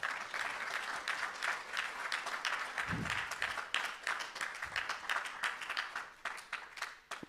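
A church congregation applauds steadily during a French-language service, a dense sustained patter of clapping at moderate distance with no talk heard.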